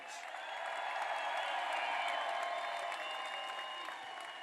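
Crowd applause and cheering for the Tennessee Volunteers baseball team at a national championship celebration, a broad distant roar of clapping that holds steady throughout.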